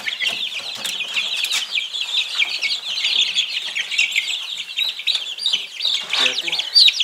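Young roosters and hens in a poultry yard keep up a busy stream of clucks and high chirps, close by and overlapping, with faint talk in the background.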